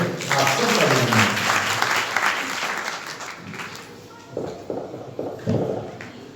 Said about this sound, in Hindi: जरा आप जोर लगा करके ताली बजाएं